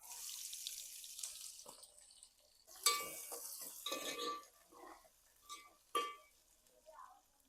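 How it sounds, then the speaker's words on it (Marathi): Bay leaf and onion drop into hot oil in a large pot of mutton curry, giving quiet sizzles with two sharper bursts and stirring scrapes between them. "त्याआधी मी इथे तेजपत्ता घालते आणि नंतर कांदा"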